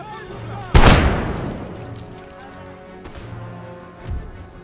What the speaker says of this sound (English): They are concerned for being under small arms fire.